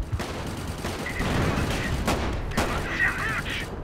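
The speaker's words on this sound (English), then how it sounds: "It machine guns random enemy infantry" Dense bursts of machine gun fire and distant battle noise from a Company of Heroes World War I mod battle, rattling continuously at moderate loudness with scattered louder cracks.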